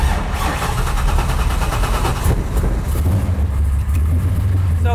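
A Chevrolet C10 truck engine fires up and settles into a loud, steady idle with a deep low rumble, close by and with no talking.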